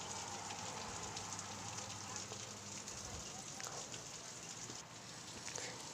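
Steady rain falls outdoors beside a house, a soft continuous hiss that stays even and faint throughout, with no voices.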